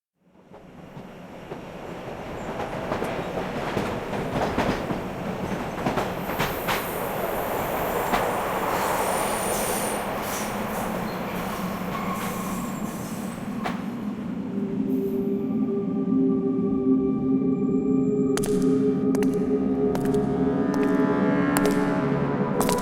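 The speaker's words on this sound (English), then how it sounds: "Driving that train." A train in the video game Art of Murder rolls steadily along the rails with a continuous loud rumble and clatter, thin metallic wheel squeals rising over it near the end, and no voices.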